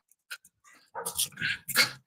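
A big dog behind a fence barks and yips in quick bursts, starting with a few faint whimpers, then louder, closer barks in a rapid cluster.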